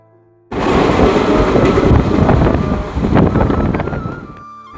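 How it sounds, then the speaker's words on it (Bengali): Passenger train running at speed, heard from inside the carriage as a loud, steady rumbling roar with wind buffeting, starting abruptly after a quiet moment and easing off near the end. "তো ট্রেনে ওঠার কিছুক্ষণ পরে ট্রেন একদম হাওয়ার গতিতে ছুটতে লাগলো।"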